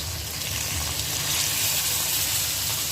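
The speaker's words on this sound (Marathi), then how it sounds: "बघा मस्त फ्राय होते." Mackerel (bangada) fish frying in hot oil, giving a steady, loud, close crackling sizzle that continues unbroken, with no voices.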